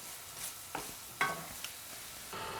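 A spoon stirs aubergine curry with chili flakes in a pan over a soft background sizzle, with a few faint scraping strokes and quiet clinks, heard alone without talk.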